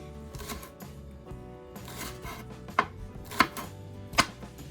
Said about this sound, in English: If you want to cut up some of the bottoms here, or your baked potato, you can.